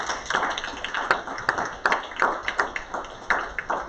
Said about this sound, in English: Please join me in a big round of applause.